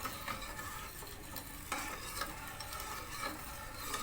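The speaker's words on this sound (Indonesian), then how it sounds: "Diaduk-aduk sampai dia semuanya tercampur rata ya" Palm sugar being stirred into about 200 ml of water for a steamed cassava and rice-flour cake, a steady wet swishing and scraping that runs continuously at moderate level with no voices.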